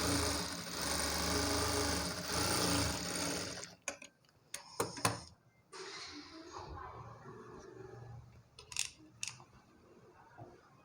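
A sewing machine stitches a small hem on a blouse, running loud and continuous for a few seconds before stopping, followed by scattered clicks and handling knocks.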